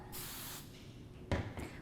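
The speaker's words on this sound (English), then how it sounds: "make sure you spray the root of that section" Hairspray is sprayed at the root of a teased hair section: a soft half-second hiss, a pause, then another short hissing burst, all fairly quiet and close.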